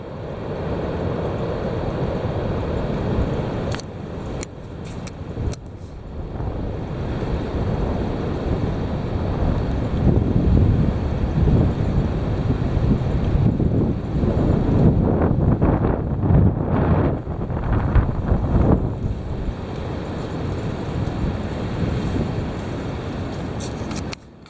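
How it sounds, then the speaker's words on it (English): Heavy wind blowing in strong, continuous gusts that buffet the microphone with a loud, rumbling roar, surging and easing but never dropping away. "There it is. The heavy wind."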